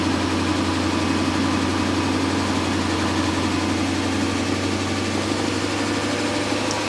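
A 1998 BMW 740il engine idles just after its fuel pump was replaced, giving a steady, loud, close rumble with a constant low hum and no pauses or talking.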